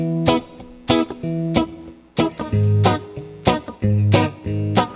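Strummed guitar chords with a minor third ring out in a repeating pattern, each attack followed by a sustained minor-sounding chord, clear and up close.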